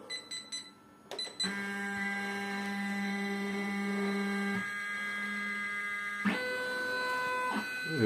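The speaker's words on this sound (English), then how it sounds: "let's see how the machine behaves when I put the thread cut on" A Happy multi-needle embroidery machine runs with its thread cutter switched on, a steady mechanical hum with tonal whine, preceded by a few short clicks and shifting pitch near the end; no talking.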